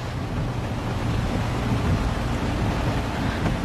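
Roaring typhoon wind with low rumbling thunder fills a steady, loud wash of storm noise throughout, with no voices.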